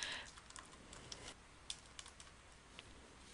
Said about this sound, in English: Next, let's type in the subject.